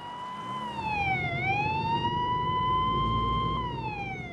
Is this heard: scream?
no